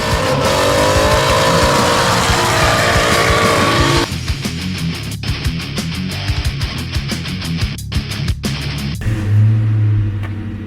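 Long-unused car engine cranking and catching, then running with a loud, rough, uneven idle and irregular pulses and knocks, settling into a lower rumble near the end, close by with no talk.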